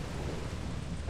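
Steady rain with a low rumble of thunder in the video game Lethal Company, a continuous wash of rainfall that stays even and fairly quiet throughout.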